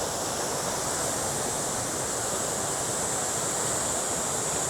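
Flowing water near Shifen Waterfall in Taiwan, a steady, dense broadband rush with no breaks, close and fairly loud, with no voices over it.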